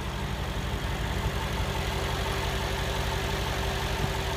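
A 2016 Mercedes-Benz G550 SUV engine idles steadily, a close, even low rumble with no talk over it.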